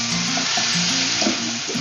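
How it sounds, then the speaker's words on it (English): Pork adobo with soft tomato and ground black pepper is stirred in a hot pan, a steady sizzle of frying under the scrape and clink of a spoon against the pan. "Give everything a good stir."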